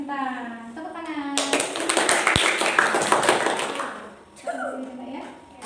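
A classroom of students claps together for classmates who earned stars, a dense burst of applause lasting a few seconds between stretches of a teacher's and children's voices.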